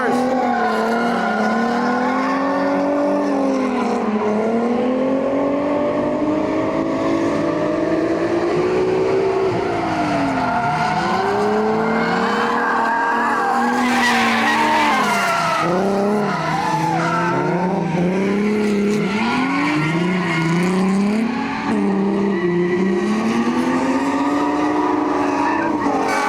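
Drift cars with VQ engines skidding at a grassroots drifting event in the Midwest, loud continuous tire squeal with wavering pitch and a roaring engine drone, close by, sustained throughout.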